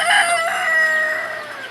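Roosters crowing loudly at morning feeding time, one long sustained cock-a-doodle-doo close by, with chickens clucking faintly underneath.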